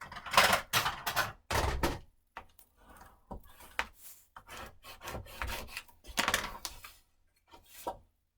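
Score tape is burnished onto paper with firm rubbing strokes that come in bursts of dry scraping, loud at first and then softer and more scattered, close up with no voices.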